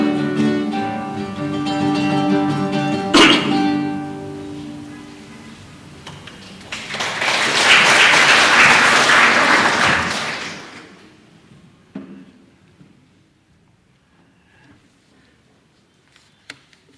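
Congregation applauding during a church service, a burst of clapping swelling for a few seconds and then fading, after music with a sharp hit and followed by near silence.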